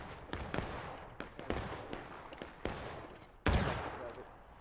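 Rapid gunfire rings out in bursts of sharp cracks, some close and some more distant, with an especially loud shot near the end and a low rumble of echoes between them.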